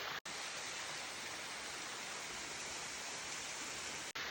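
Love Waterfall in Sapa, Vietnam rushes in a steady, dense hiss of falling water. It is continuous and broadband with no talking, and cuts out briefly at the start and end.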